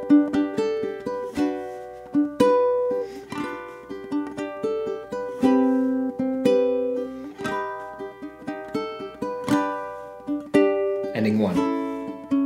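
Fingerpicked acoustic guitar plays an etude melody through with plucked notes over bass notes in a steady flowing rhythm, close and clear, ending with a louder strummed flourish.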